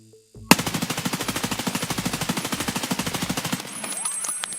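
Rapid automatic gunfire in a first-person shooter with recoil left uncontrolled, a loud continuous burst of evenly spaced shots lasting about three seconds, then stopping abruptly.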